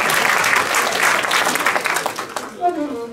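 Enthusiastic audience clapping at a jazz party concert, loud and even at first, then thinning out as a voice begins talking over the fading applause.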